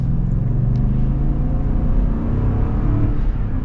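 A Toyota Land Cruiser engine pulls in ECT power mode, a loud, close, steady low rumble and whir throughout.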